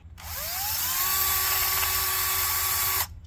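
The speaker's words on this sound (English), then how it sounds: "I'm going to drill a couple of holes here." A high-pitched power drill whirs steadily for about three seconds, drilling holes in a 2001 BMW E46 M3 headlight, spinning up at the start and cutting off abruptly, loud and close.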